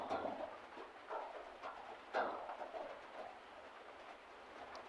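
A train heard at moderate distance, a rumbling passing with soft rhythmic rattles and a sharp clank near the middle, steady throughout with no talk over it.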